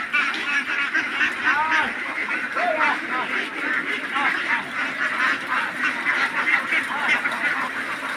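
A huge flock of ducks on a farm in Rajshahi district quacks loudly and continuously, with many overlapping calls close by and some voices in the background.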